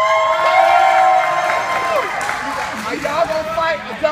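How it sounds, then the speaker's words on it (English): A crowd at a wrestling match cheers and shouts loudly and steadily, with whoops and scattered clapping rising and falling, and a voice talks over the noise. "They are cheering for a zebra."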